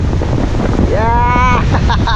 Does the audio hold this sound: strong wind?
yes